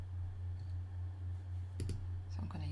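Computer mouse clicks while selecting a texture layer in a digital art template, two or three quick close clicks over a steady low hum, with faint shuffling afterward.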